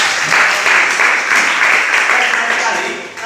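Classroom applause from students in a mathematics lesson, a dense steady clapping wash lasting about three seconds that tapers slightly at the end, with voices mixed in.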